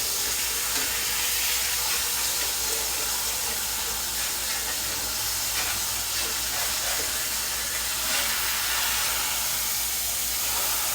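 A steady, even sizzle and hiss of meat frying in a pan on a keto and carnivore meal-prep day, continuous and fairly quiet, with no talking.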